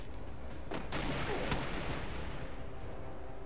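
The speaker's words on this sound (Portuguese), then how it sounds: "Tava atirando lá." Gunfire in the battle royale game Free Fire, a burst of dense shots cracking through a steady game soundscape, loudest early on and then tapering into background noise.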